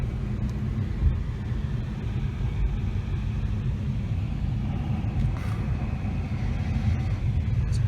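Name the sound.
Jaguar XE turbo car engine roaring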